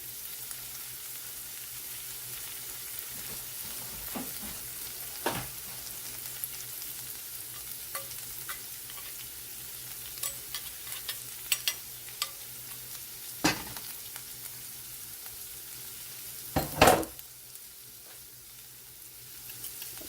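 Vegetarian oxtails sauté in olive oil in a pan, giving a low, quiet sizzle punctuated by occasional scraping clacks of a utensil, one louder clatter near the end.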